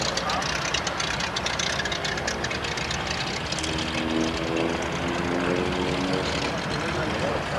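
A propeller aircraft flies aerobatic maneuvers at the 1984 Denton airshow, its engine a steady droning roar that shifts slowly in pitch, while a commentator talks over a public address system throughout.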